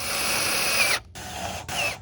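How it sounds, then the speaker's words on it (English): A self-drilling, self-tapping screw is driven by a power drill while an LED light bar is mounted, giving a steady close whine that breaks off briefly twice before resuming. "We're just gonna drill that right down in there like that."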